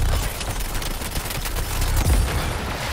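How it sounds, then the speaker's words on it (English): Heavy artillery and gunfire explode continuously in the Suicide Squad: Kill the Justice League video game, a dense barrage of booms and rapid shots with a stronger low thump near the end and no pause. "Getting blasted, that's gonna get hammered. Whoa, heavy artillery, heavy"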